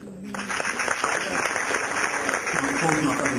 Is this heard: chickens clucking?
no